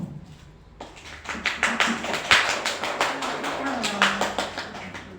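Audience at a school teachers' event gives a round of clapping that starts faintly, then swells into sustained, fairly close applause with steady rapid claps for several seconds, with a voice heard briefly underneath.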